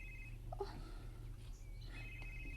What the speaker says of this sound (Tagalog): Murag ang cellphone man ako ang mitingog.